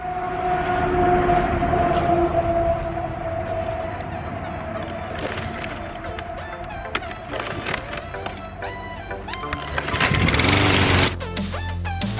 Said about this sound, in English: I've already chopped this down once with the mower, so we're gonna chop it down again